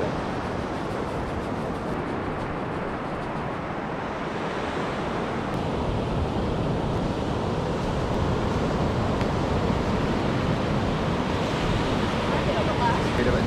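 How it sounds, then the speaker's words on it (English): Ocean waves break and wash continuously onto a beach, a broad steady roar with wind buffeting the microphone throughout. "Ocean."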